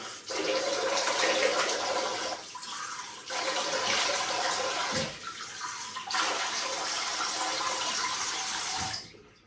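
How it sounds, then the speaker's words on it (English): Warm water running and draining from a bathroom sink during a shave: a steady, close, rushing wash of water with brief dips and gurgles, no voices. "Drain the sink of the warm water"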